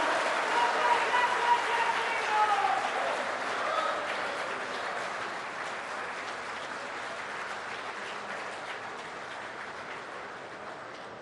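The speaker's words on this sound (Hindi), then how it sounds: "करतल ध्वनि, तालियां बजाकर स्वागत करिए इस ऐतिहासिक पल का।" Sustained applause from a large crowd at the inauguration of the BJP central office extension by Prime Minister Narendra Modi, a dense steady patter of clapping that slowly fades over about ten seconds.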